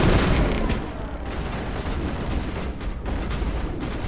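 A grenade blast in the video game Mass Effect, a dense loud rumbling boom that fills the whole moment and then holds as a steady roaring wash of battle noise, with no voices over it.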